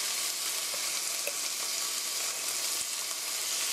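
Sugar caramelizing in a hot pan with stir-fried pork for kimchi pork stir-fry, a steady loud sizzle with faint stirring scrapes throughout, no voices.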